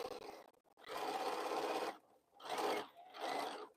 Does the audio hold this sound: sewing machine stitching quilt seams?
yes